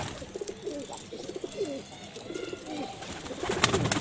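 Silver Kamagar (Teddy) pigeons coo in low, rolling phrases, several calls in succession, with faint chirps and background rustle around them.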